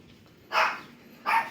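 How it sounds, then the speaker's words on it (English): Two loud dog barks close by, a short one and then a second after a pause, with no talk over them. "The dogs barking at me."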